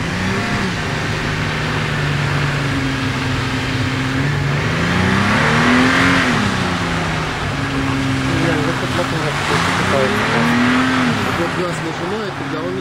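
A Toyota Prado SUV engine labours off-road climbing a hill, revving up and down under strain, pitch rising and falling, while people talk over it nearby.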